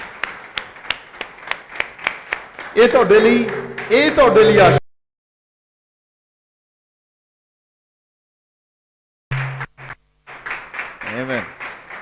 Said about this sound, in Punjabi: ਇਹਨਾਂ ਨੂੰ ਇੱਕ ਚੰਗੀ ਤਾਲੀ ਦਿਓ